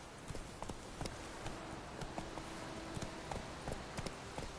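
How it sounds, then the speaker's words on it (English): Roach the horse gallops in The Witcher 3, with an even, rhythmic run of hoofbeats clopping steadily over a low background bed of game ambience. "Run, Roach."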